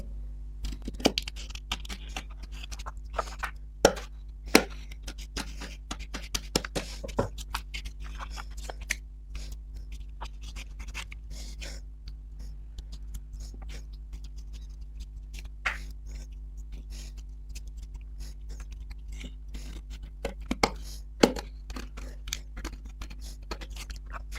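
Scissors cutting fabric for a princess-cut blouse, a quiet irregular run of soft snips and crisp crunches close by over a low steady hum, with no talking.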